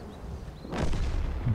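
A tank cannon shot in the World of Tanks video game, fired from a Ru 251 light tank, booms once as a single loud blast partway through and then rumbles on to the end.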